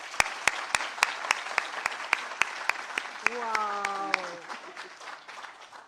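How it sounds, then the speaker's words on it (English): An audience at a forum and expo at the University of Nairobi claps in slow, evenly spaced, sharp hand claps, fairly sparse, while one voice briefly exclaims midway. "Mama Ada deserves a better clap than that one"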